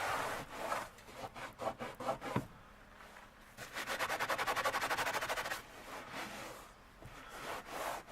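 A van carpet stain scrubbed out by hand with a brush, rapid rhythmic back-and-forth strokes in bursts of varying speed, close and fairly loud with short pauses between runs.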